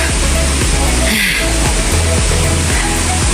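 Hulugan Falls in Luisiana, Laguna pours in a loud, dense rushing roar, close and constant, with faint voices under the water noise.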